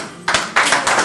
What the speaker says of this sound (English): join me as we clap for you and your team